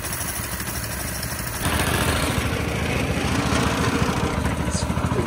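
A rotary-engine car running at a car jamboree, a loud steady engine drone that grows slightly fuller and rougher partway through, close by with people talking over it.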